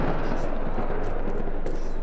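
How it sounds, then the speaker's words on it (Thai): Thunder from a lightning strike booms in a horror video game, a loud, dense rumble that fills the whole two seconds without a break. "มันแค่ฟ้าผ่า"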